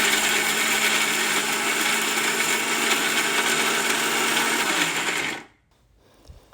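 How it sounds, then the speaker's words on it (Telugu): A mixer grinder grinding chutney whirs loudly and continuously at close range for several seconds, then cuts off abruptly into near silence with a faint clunk. "మిక్సీ జార్లో వేసుకున్న పదార్థాలన్నీ మంచిగా మెత్త మెత్తగా మిక్సీ పట్టుకోవాలి"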